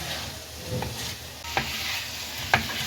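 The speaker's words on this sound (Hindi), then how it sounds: "1 से 2 मिनट तक मैंने गोभी को अच्छे तरीके से इसमें भून लिया" Cauliflower for aloo gobi sabzi fries in a pan with a continuous moderate sizzle, broken by a few sharp scrapes and taps as it is stirred; there is no talking.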